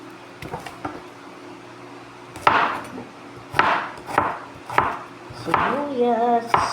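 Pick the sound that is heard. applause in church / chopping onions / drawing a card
chopping onions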